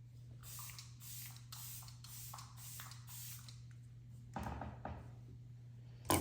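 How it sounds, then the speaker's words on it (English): Several short, breathy bursts of a fine aerosol makeup setting spray in quick succession, close up and fairly quiet, then a soft shuffle and a faint bump. "Do a little bit of Makeup by Mario setting spray."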